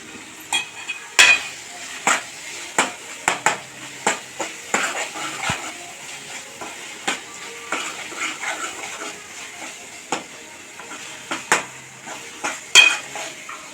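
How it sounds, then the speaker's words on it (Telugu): Bitter gourd and tomato curry stirred in a pan after coriander is added, with scattered sharp spoon clanks against the vessel over a low simmering background, close and fairly loud. "కొత్తిమీర వేసుకొని కలుపుకుందామండి ఒకసారి."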